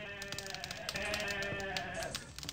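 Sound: goats bleating in a video game

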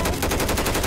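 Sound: helicopter machine gun firing in Left 4 Dead 2 video game

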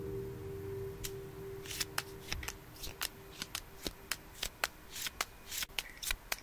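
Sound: shuffling tarot cards

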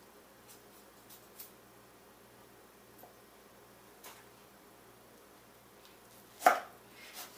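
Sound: knife chopping tomato into small pieces

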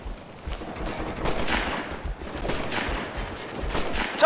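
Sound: gunfire in the video game Operation Flashpoint Red River

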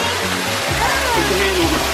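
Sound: small waterfall inside a mini cave

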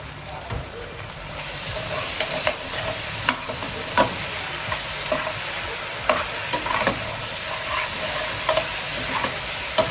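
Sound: red onions sautéing in a pan

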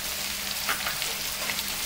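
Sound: green chili, ginger and garlic frying for Kerala beef fry

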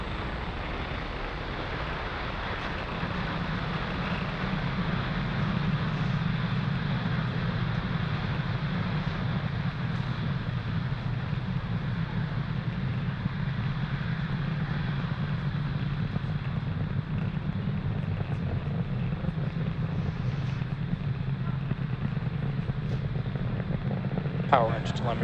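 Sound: SpaceX Falcon 9 rocket launch engine roar

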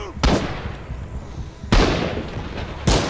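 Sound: knee mortar explosions in the video game Rising Storm

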